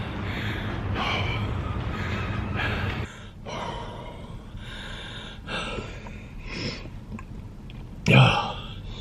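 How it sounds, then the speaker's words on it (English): Heavy, ragged breathing and gasps from a person badly out of breath after walking up a few flights of stairs, close and steady for most of the clip, ending in a sharp louder gasp. "let's see how out of breath I am"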